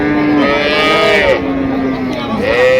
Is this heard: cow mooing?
yes